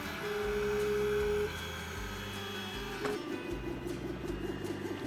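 AlgoLaser Pixi laser engraver cutting a plywood coaster, producing a quiet steady motor hum with stepping tonal whines and a faint fan drone, continuous and alone at low level.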